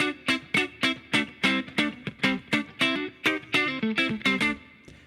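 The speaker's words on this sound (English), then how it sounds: "you are going to do a picking technique on 2 notes at the same time" Electric guitar with a distorted, effects-laden tone picking double stops, two notes struck together in a steady run of about a dozen punchy, evenly spaced hits, played alone.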